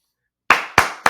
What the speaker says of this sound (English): A little golf clap.